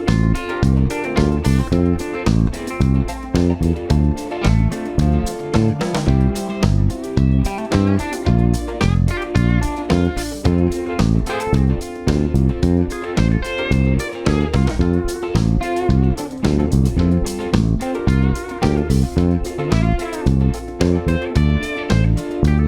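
A bass guitar plays a steady, driving groove over a full backing track with drums. The pulse stays even and loud, and no one speaks over it.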